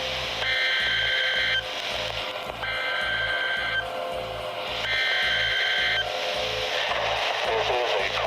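National Weather Service tornado emergency alert broadcast: harsh, loud electronic tones that repeat in regular on-off bursts of about a second each over a steady low buzz. A voice runs underneath the tones.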